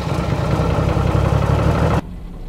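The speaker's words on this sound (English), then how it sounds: "Ah, gotta love those 12HT engines." A 1986 Toyota Land Cruiser HJ61 with a 12HT diesel engine idles close by, a steady low clattering rumble that cuts off abruptly near the end.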